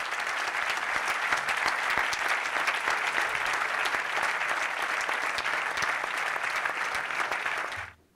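A final round of applause from a conference audience for two expert speakers on resilience and repair after politically motivated torture: dense, even clapping held steadily for several seconds, then cutting off abruptly at the end.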